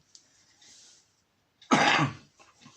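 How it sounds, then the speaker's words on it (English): A single sharp cough, close and fairly loud, preceded by faint breathy sounds and followed by a soft exhale. "Coughing into my the crook of my elbow"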